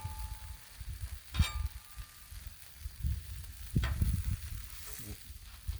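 Peach halves and slices of pound cake sizzle on a hot griddle, a steady close crackle punctuated by two sharp clanks of a utensil against the metal surface, with no talking.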